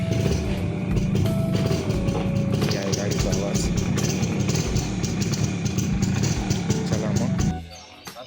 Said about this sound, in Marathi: आता तुम्हाला गाडीचा आवाज बी ऐकवतो.